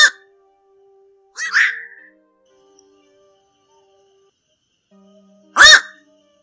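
Night heron calls used as a lure for trapping the flock: three harsh, hoarse croaks spaced apart by seconds of near silence, each short and fairly loud.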